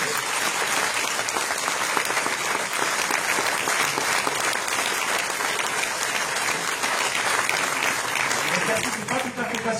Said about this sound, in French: Donc un grand merci de les avoir applaudis